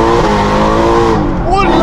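A Mercedes AMG car skids with its tires squealing loudly in long, continuous screeching tones, heavy engine noise filling the whole stretch.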